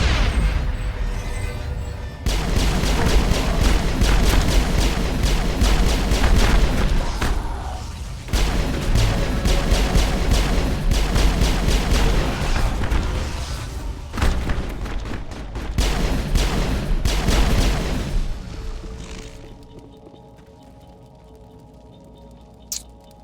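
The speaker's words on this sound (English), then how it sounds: "Throw a grenade at the Husk's feet now." Grenade blasts and rapid gunfire against Husks in Mass Effect. The firing is dense and loud for most of the stretch, with brief lulls between bursts, then fades to a quiet hum and a single sharp hit near the end.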